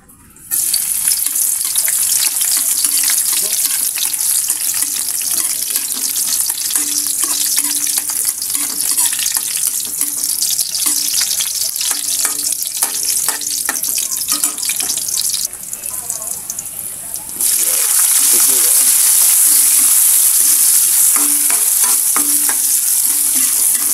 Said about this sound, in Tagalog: Gigisahin ko muna. Yan, mantika. Bawang.